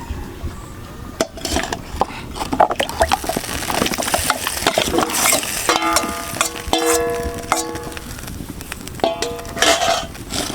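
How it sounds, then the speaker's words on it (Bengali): Washed man kochu (giant taro) pieces dropped into water in a wok: clattering clinks and metallic clangs with splashy, stirring noises, loud and close, busier in the second half, with no speech. "এখন আমি এই যে ধুয়ে রাখা কচুগুলো দিয়ে দেবো।"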